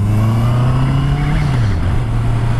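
Honda CBR650R motorcycle engine running steadily at high revs, a loud close drone that holds, dips briefly and then rises again, with no talking.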